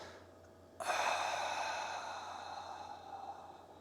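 A single long, deep exhale during a 90/90 hip stretch, a close breathy rush that starts abruptly and slowly fades over about three seconds, alone without talking.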